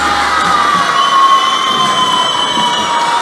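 An arena crowd at a men's -66 kg judo Grand Slam final roars steadily as the bout ends, a dense sustained cheer with rising whistles and shouts, loud and continuous without any commentary over it.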